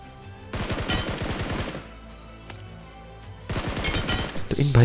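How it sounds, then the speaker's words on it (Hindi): Scar-L assault rifle spray fire in PUBG, two loud sustained bursts of rapid automatic shots separated by a short pause, close and dominant in the mix. "तभी हम उसको ये भाई साहब दिखते हैं जिनको मैं स्कारलेट का स्प्रे मार कर नॉक कर देता हूँ"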